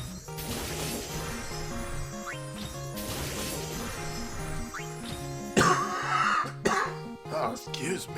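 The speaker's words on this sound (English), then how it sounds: "This cough is the worst." A man's coughs and throat clearing burst out over ongoing game music and background sound from a Final Fantasy Record Keeper stream, loud and close, in a cluster of several harsh bursts near the end.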